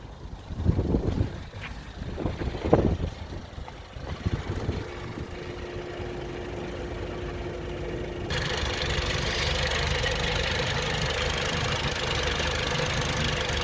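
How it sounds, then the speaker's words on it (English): A 1956 Ford Anglia 100E engine idling, a steady low rumble with a thin whine, preceded by a few louder thumps and knocks, heard close and without speech. "It's idling pretty decent now."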